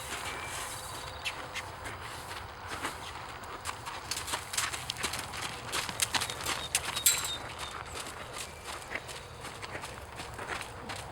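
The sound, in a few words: horse hooves on ground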